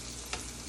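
Liver dredged in seasoned flour frying in a pan, a steady soft sizzle with one brief louder crackle partway through, no voices.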